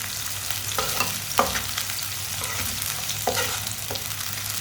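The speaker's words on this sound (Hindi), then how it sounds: "प्याज को 1 मिनट के लिए पका लेंगे" Chopped onion, cut fairly large, frying in a pan for masaledaar bhindi, giving a steady close sizzle broken by several scraping stirs of a spoon, with no talking.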